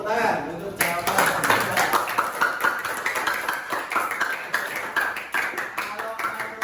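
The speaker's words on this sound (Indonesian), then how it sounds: "Tepuk tangan untuk jawaban" Students in a classroom clap for a classmate's answer, a scattered, uneven patter of hands that rises after a short moment of talk and continues in loose bursts.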